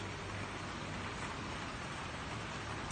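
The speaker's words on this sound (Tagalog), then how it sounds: "Tag-ulan dito ngayon sa Israel." Rain falling outside during the rainy season in Israel, heard from a fifth-floor room: a continuous, even hiss of rainfall with no breaks or distinct drops.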